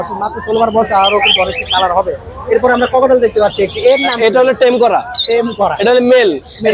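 At the Mirpur bird market in Dhaka, a sun conure parrot gives loud, shrill, repeated calls close by, mixed with people talking.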